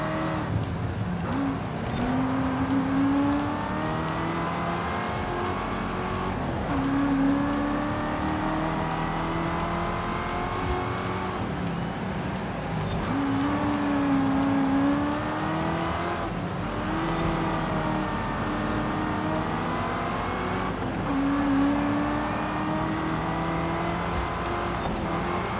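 Cars race through the open world of the video game Forza Horizon 5, with a steady engine drone, rising and falling revs as gears shift, and occasional tire squeal, loud and continuous throughout without talk.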